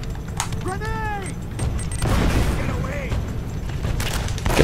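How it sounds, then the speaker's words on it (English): A grenade goes off in the action game Uncharted: Drake's Fortune, a heavy boom arriving about halfway through amid gunfire cracks and game noise, while a person talks over the action. "Grenade, go!"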